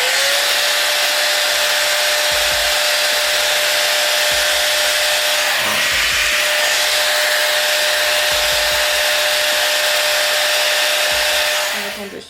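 A cheap fake Dyson Airwrap hair styler runs with a loud, steady high-pitched whine and rushing airflow, continuous and close before cutting off at the end.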